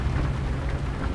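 Steady rain in the truck-driving game American Truck Simulator, a dense continuous hiss with a low rumble beneath, constant and unbroken.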